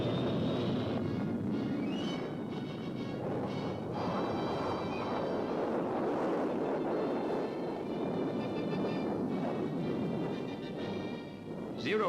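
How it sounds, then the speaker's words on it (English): A jet fighter plane takes off on a zero-length launch, heard as a steady, distant, roaring engine rush with whining tones drifting over it throughout. "When it jumps from its short runway, the plane will accelerate from 0 to 275 miles per hour in 4 seconds."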